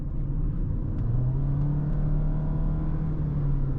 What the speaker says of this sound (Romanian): Când vrei să accelerezi mașina, mașina se turează și rămâne acolo